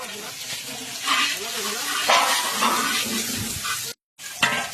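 Small fish and radhuni spice drop into hot oil in a large pot, setting off a loud, close, crackling sizzle that stays steady, briefly cuts out, then returns. A voice speaks faintly underneath.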